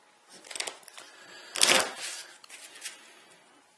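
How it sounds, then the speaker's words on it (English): A deck of cards for the Mage Knight board game being shuffled on a table, several riffles and riffs of crisp papery flutter, the loudest burst in the middle, close and fairly quiet, no talking. "Now we've finished shuffling"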